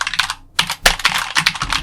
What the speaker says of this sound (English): the clicking of your keys might spell your demise